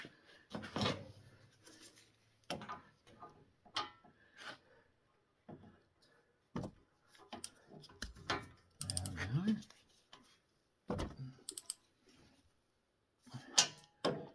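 Torque wrench set to 90 foot-pounds clicking while brake bolts are tightened on a Toyota Tundra, sharp close ratcheting clicks and metallic knocks in scattered bursts with pauses between, and someone talking at times.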